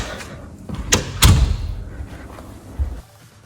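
A laundry room door swings shut with a solid thud and a brief rattle, followed by a softer knock, close by in a quiet room.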